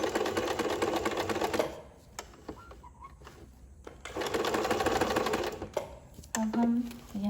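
An electric sewing machine stitches a princess-cut blouse, running in bursts of steady rapid clatter with quieter pauses of handling between them, close by.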